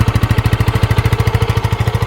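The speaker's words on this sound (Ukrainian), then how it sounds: "дуже-дуже тихо працює мотор" A small 2025 Lifan KPT 250 motorcycle engine idles close by, putting out an even, rapid putter of exhaust pulses that barely changes.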